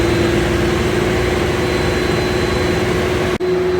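A 489 cubic inch big block Chevy roars continuously on an engine dyno, loud and steady with a strong low drone, briefly cutting out near the end.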